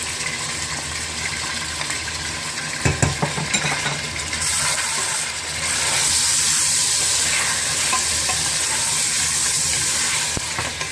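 Meat for nihari frying in a pot with ginger garlic paste, a loud continuous sizzle with stirring scrapes and a few clanks of the spoon, the hiss swelling brighter midway.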